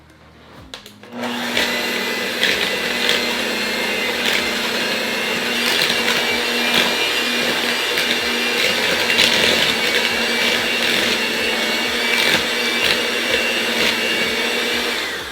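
An electric hand mixer whirs steadily at high speed, beating sugar and vegetable oil for a chocolate cake batter, a loud continuous motor drone that starts abruptly and runs unbroken to the end with a faint rattle of beaters against the bowl.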